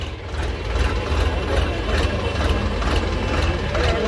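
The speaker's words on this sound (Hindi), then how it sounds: "किसान भाई जो हैं ट्रैक्टर को अपने हिसाब से स्टार्ट करके चला के देख रहे हैं" A Massey Ferguson 8055 Dyna Track tractor engine runs with a steady, loud, low rumble at a farmers' launch event, with faint voices in the background.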